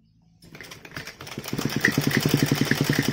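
Close sewing machine stitching saree fabric: the motor starts up, then settles into a fast, even needle rhythm, loud and alone.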